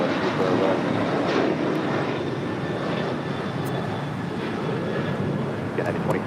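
Airliner taking off at LAX, a loud, steady, broad engine roar holding throughout, with faint radio talk underneath.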